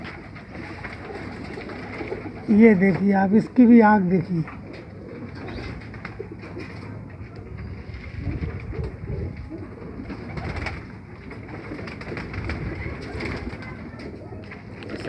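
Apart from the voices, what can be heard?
female pigeon cooing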